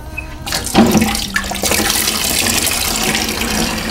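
Water runs steadily in a bathroom, a broad continuous rush like a faucet or flush starting after a brief quiet moment and holding at moderate loudness to the end.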